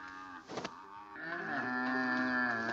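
A cow lows in a 1958 French comedy film, a long, loud, harmonic moo that swells and holds steady after a brief rustle, heard alone with no talk.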